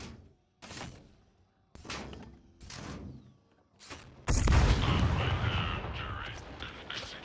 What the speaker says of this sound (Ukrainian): Перший постріл.